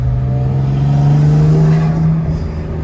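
A BMW engine revs loudly nearby at a car meet, its deep drone rising and holding with a throaty intake roar before easing off at the end.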